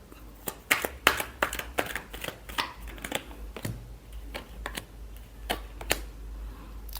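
Tarot cards are shuffled in quick, sharp riffling snaps that come in uneven bursts, close and fairly quiet, with no talking over them.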